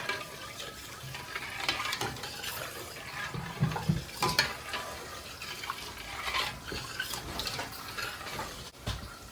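Six cups of hot water poured into a soup pot of Italian wedding soup, a continuous close splashing, filling pour lasting several seconds.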